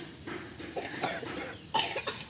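Two or three coughs from a person, close and fairly loud, spaced a little apart over a faint background hum, with no talking.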